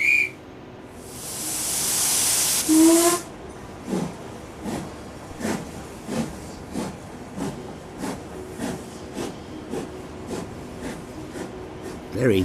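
A 1964 steam train at a station, with a loud burst of steam hiss, a short whistle note, and then a steady rhythmic chuff of puffs as the locomotive pulls away.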